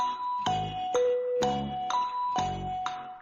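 A Jeopardy waiting jingle chime played from an MP3 during a live stream, with clear bell-like tones in a steady melodic sequence of about seven notes, loud and alone without talk.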